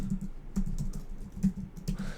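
Computer keyboard typing indoors, a steady run of soft clicking keystrokes with a few heavier taps, close and fairly quiet with no talk.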